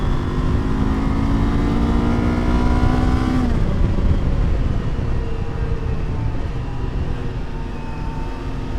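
A Kawasaki KLE 500 SE adventure motorcycle with a Ninja 500 twin engine revving high while riding, a loud close whine that drops sharply as the throttle closes, then settles into steady engine and road roar.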